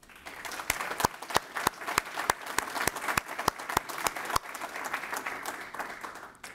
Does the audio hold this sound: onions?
no